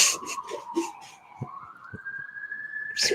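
A distant siren wails in a single faint, whistle-like tone that dips and then rises slowly, with scattered knocks and rustles around it.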